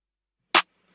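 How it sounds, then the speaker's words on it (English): A single dry 808-style trap clap sample, one short bright snap with no processing, isolated against silence. "let me just play you the clap"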